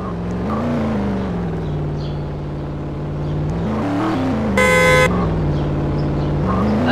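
Pickup truck engine droning in a Roblox game, a steady close hum that rises and dips as it drives, with a brief horn-like blast midway.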